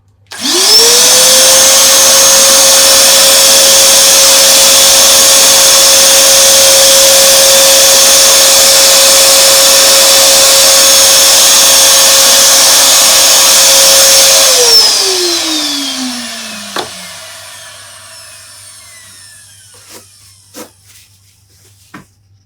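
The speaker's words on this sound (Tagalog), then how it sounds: "medyo malikabok, linisan natin ng vacuum." A vacuum cleaner sucks dust from inside an opened PlayStation 4 console, with a loud, close, steady whine that holds for about fourteen seconds before the motor spins down, leaving a few faint clicks and taps.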